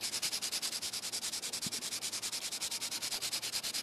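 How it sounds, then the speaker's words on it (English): Gentle hand sanding of a paper-covered concrete build: quick, even back-and-forth scraping strokes in a steady rhythm, close by and continuous. "Very gently sanding, ever so gently."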